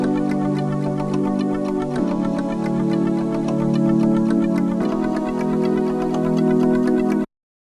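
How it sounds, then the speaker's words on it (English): A raw sampled excerpt from a Korg Wavestation synthesizer demo: sustained, bright synth chords that change twice, loud and steady, then stop abruptly. "I've taken a sample from a demo of the Korg Wave Station because I was looking for something with a pretty 90s sound."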